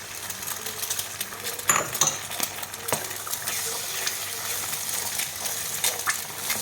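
An egg is cracked into hot oil and scrambled in a pan for chicken fried rice, with a spatula clinking and scraping against the metal in sharp bursts over a soft sizzle.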